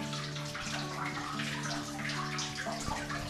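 Water seeping from rock and dripping into a covered rock-cut water tank at a hill fort, a steady wet trickle with soft drips, continuous and moderately near.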